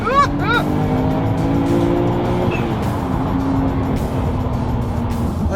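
A sports car engine revs hard and accelerates through the gears, pitch climbing through a change into fourth, loud and close, with brief tire noise at the start.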